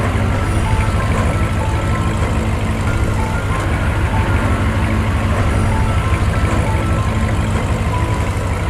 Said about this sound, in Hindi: इधर गुल्ली बुल्ली गाड़ी में बैठकर शॉन को बचाने के लिए इधर ही आ रहे हैं।